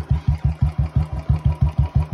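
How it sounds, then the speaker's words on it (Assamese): A modified Royal Enfield Bullet motorcycle idles close by with a loud, even thump-thump beat of about five pulses per second, deep and steady, with no talking. "আৰু আজি এতিয়া বাইকৰ মাতষাৰটো শুনি গম পাইছে কি বাইক আছে"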